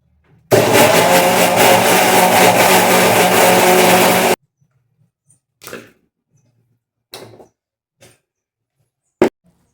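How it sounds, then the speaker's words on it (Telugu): A mixer grinder grinds flaxseeds for a hair-care paste, giving a loud, steady motor whir for about four seconds that cuts off abruptly, followed by a few short clatters and knocks. "ఇప్పుడు మిక్సీ మెత్తగా పట్టుకోవాలి. మిక్సీ అయితే పట్టేసుకుంటున్నా."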